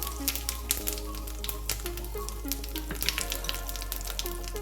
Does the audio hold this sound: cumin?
yes